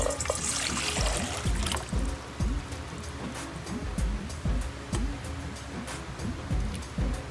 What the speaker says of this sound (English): So to begin with, I'll add in the water.